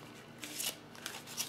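Tarot cards are drawn from their piles, giving a few short papery slides and flicks, soft and close, with a brief rustle between each.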